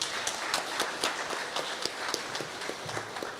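Scattered audience clapping at an awards night, fairly quiet and somewhat sparse, with individual claps standing out in an uneven rhythm over a few seconds.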